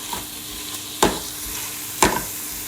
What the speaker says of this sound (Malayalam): ഇത് നന്നായിട്ട് ഇളക്കി മൂപ്പിച്ചെടുക്കുക